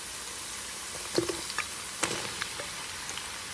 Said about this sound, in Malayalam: നമ്മുടെ സവോള നമുക്ക് ഇട്ട് കൊടുത്ത് നന്നായിട്ട് വഴറ്റിയെടുക്കാം